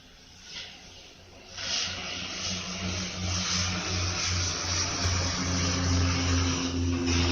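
A plane passing overhead beneath grey, overcast dusk skies, a broad steady engine roar that swells after a quiet start and holds loud to the end, with no one talking.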